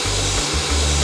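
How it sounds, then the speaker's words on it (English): A car heater blower fan stuck on full setting, in a high-mileage scrap car, roars in a loud steady rush with a low pulsing drone beneath, filling the cabin. "My blower is stuck on full and it's blowing warm-ish air."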